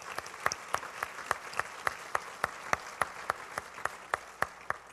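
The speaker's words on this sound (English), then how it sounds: "Let's give them a round of applause for being here." An audience at a League of Women Voters candidates' night applauds, with a faint crowd wash under evenly spaced sharp claps from one nearby pair of hands.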